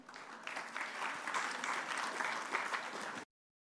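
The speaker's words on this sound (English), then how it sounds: "Let's give them a big round of applause" An audience at the Emiratisation Summit 2025 gives speakers a round of applause, an even, moderately loud patter of many hands clapping for about three seconds before cutting off abruptly into silence.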